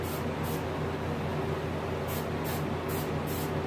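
An airbrush sprays paint onto a rainbow trout taxidermy mount in short, hissing bursts, a few quick puffs early and a string of spaced sprays later, over a constant low compressor hum.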